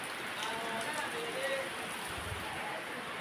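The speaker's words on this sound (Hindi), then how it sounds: "फिर इधर बारिश हो रही है" Steady rain hissing continuously on a surface at a house in Goa, fairly faint, with no clear voices over it.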